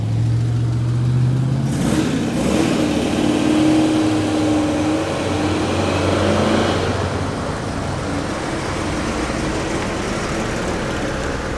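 A big, loose-sounding classic V8 runs loud and close at an outdoor classic car show, a steady rumbling idle with a revving swell, and no one speaks over it.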